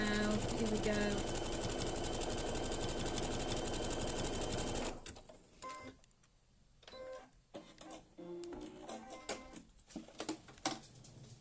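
A sewing machine stitches wadding for a reusable kitchen sponge in a fast, dense mechanical whir for about five seconds, then stops; after that come quieter scattered clicks and handling sounds with some speech-like murmuring.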